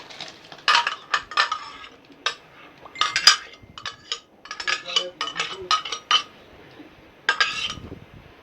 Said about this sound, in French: on va ajouter à notre préparation les arachides et tous les condiments écrasés